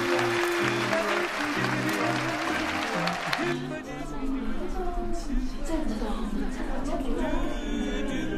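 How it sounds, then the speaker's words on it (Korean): Wedding guests clap as the groom enters the ceremony hall, warm applause rising beneath loud processional music that cuts off partway, after which clapping and murmuring chatter continue at a moderate distance. "힘찬 박수로 맞이해 주시기 바랍니다."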